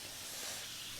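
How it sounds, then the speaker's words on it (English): Steady broadband sizzling hiss of pork ribs cooking on an Oklahoma Joe's Bronco smoker, continuous and fairly close, with no pauses or voices. "Hear that sizzle."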